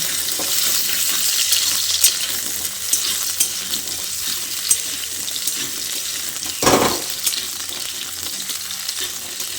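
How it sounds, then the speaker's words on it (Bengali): Diced medium potatoes frying in hot oil until reddish: a loud, continuous crackling sizzle up close, broken once by a rough scraping stir, with no talking. "এবার আমি এই আলুটাকে একটু লালচে করে ভেজে নিচ্ছি।"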